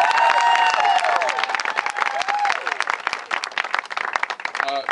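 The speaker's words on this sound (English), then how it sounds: "give these kids a round of applause today" Audience applause rings out for a group of kids at a community gathering, a steady wash of clapping with some cheering that holds loud for several seconds and thins slightly toward the end, with a voice faintly present.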